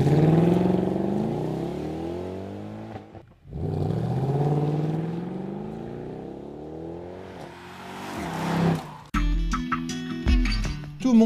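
A Mercedes E-Class AMG estate engine accelerates hard through several gears, rising pitch with brief drops at each shift, loud and close, ending in a sharp burst near the end.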